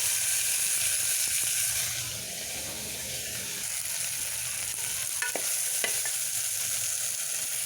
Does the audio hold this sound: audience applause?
no